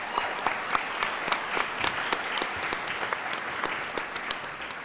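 An audience claps at a law symposium panel, a steady round of applause from a moderate crowd with no talking over it.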